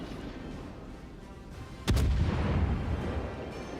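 A single heavy naval gun salvo from a Baltimore cruiser in the World of Warships video game: one sharp, loud blast followed by a deep, rumbling decay over steady ambient game noise.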